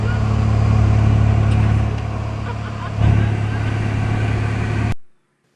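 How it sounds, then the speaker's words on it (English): Ultralight aircraft powered by a Rotax 447 engine with a smoke system passes by in flight, a loud steady engine drone that swells around the midpoint and then cuts off abruptly near the end. "we captured this great flyby"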